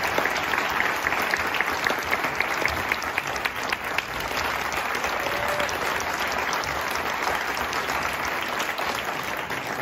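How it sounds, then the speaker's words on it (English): An audience applauds the Colorado Brass Band at a brass band camp, a dense, steady wash of clapping holding at full strength throughout with no voices over it. "if you will give them a round of applause as well"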